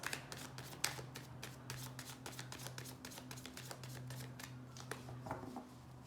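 Tarot cards are shuffled in quick, crisp riffling bursts over a low steady hum, close and fairly quiet.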